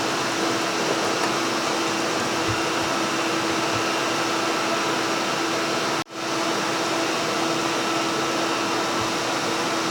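Slitting saw on a machine cutting off leftover stock from a steel arbor key, a loud continuous grinding whir with a steady tone, briefly dropping out once partway through, with no talk.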